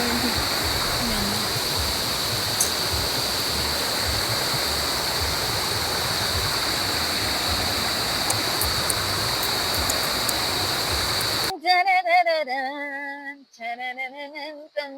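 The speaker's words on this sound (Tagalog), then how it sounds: "Naririnig ko na naman ang tubig." The Sta Lucia river rushes in a steady broadband wash of flowing water, then it cuts abruptly to a voice with music near the end.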